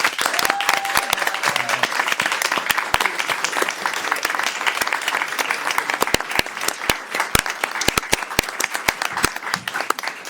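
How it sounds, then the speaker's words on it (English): Applause fills a council meeting chamber after a proclamation, a steady wash of claps from the gathered audience with sharp individual claps close by, continuing for several seconds. "Let's give Marcela a big round of applause."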